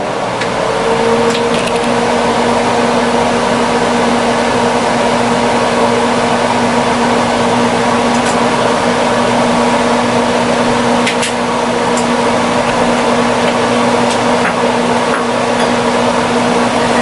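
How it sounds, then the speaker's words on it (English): A kitchen range hood fan runs at a steady, loud drone with a constant hum and broadband whoosh, unbroken and without talk, with only a few faint clicks over it. "now I am going to turn the range hood on so we can watch everything cook in real time"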